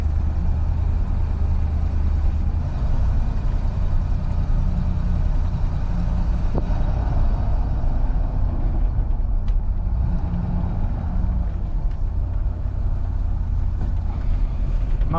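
Ford F150 pickup truck driving around the block, a steady loud low engine and road rumble holding constant throughout, close and continuous with no talk.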